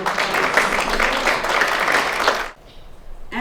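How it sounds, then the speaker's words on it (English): Steady applause from an audience at a Veterans and Military Appreciation Day event honours military family members, with dense clapping lasting about two and a half seconds before stopping abruptly. "can we give them a round of applause?"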